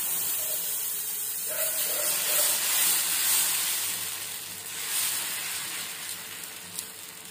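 Dosa batter poured onto a hot pan for a South Indian breakfast, giving a steady sizzling hiss that holds throughout and swells slightly midway, with no talking.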